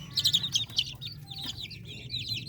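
Young darag native chickens cheep and cluck close by, a busy overlapping stream of high chirps with a few lower clucks, over a soft background hum.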